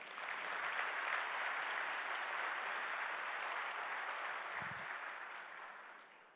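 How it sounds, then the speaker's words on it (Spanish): Steady applause from an audience at a public presentation event, a broad even wash of many hands clapping that holds throughout and fades slightly at the end. "Un aplauso para ustedes."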